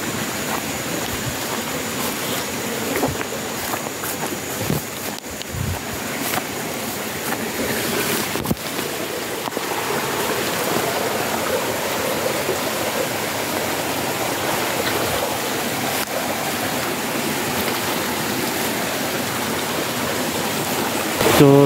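A forest stream flows continuously with broad rushing and splashing water noise, steady and close throughout, with a few brief knocks and handling sounds near the start and no clear talk.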